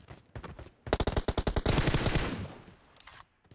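Close burst of automatic gunfire in the mobile battle royale game PUBG Mobile: about a dozen rapid, evenly spaced shots, then a louder sustained roar of fire that fades, with a few scattered shots at the end.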